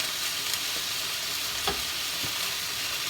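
Chicken breast frying in a pan, a steady close sizzle with a few soft scrapes and nudges as the meat is shifted, no voices heard.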